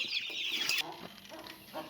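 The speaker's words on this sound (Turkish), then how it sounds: "Burada da değerli tavuklarımızın anne babaları var" Chickens on a poultry farm cluck and squawk in a dense, steady flock chorus, loudest in the first second with a sharp high call, then softer scattered clucks, fairly close.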